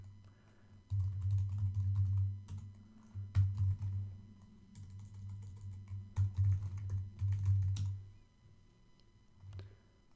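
Quick bursts of computer keyboard typing while entering login credentials, close and fairly quiet, with short pauses between clusters of keystrokes and no talking.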